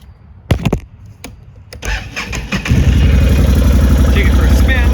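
A 2014 Can-Am Outlander XT 500 ATV cranks with a few clicks and sputters, then catches and settles into a steady loud idle close by.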